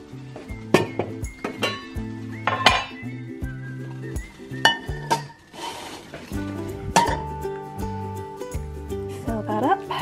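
Clattering metal clinks and knocks as a saucepan is handled among pots and pans in a home kitchen, irregular bangs over steady background music and talk.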